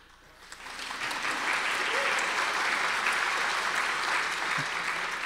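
Sustained crowd applause at a University of Iowa Carver College of Medicine Bachelor of Science commencement ceremony swells quickly and holds as an even, loud wash of clapping with no talking over it.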